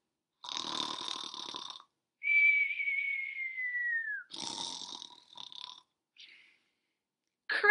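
A voice imitates a bear snoring with rough, close snorting breaths, then a long falling whistle, then another snore and a few softer snuffles separated by short silences.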